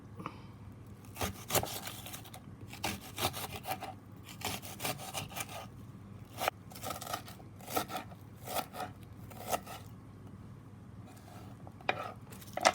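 A knife slices through plantain on a cutting board in repeated short scraping strokes, close and fairly quiet, with brief pauses between cuts.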